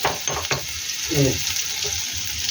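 Dried red chillies and black cumin tempering in hot mustard oil, a steady close sizzle and crackle throughout, with a brief voice murmuring partway.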